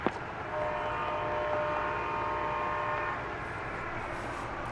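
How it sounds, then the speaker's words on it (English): A DART light rail train passes near Dallas Love Field at night, a steady broad rumble of wheels on track with a sustained tonal hum or horn-like whine, fairly loud and close, with no voices. "Here comes a dart train in the foreground."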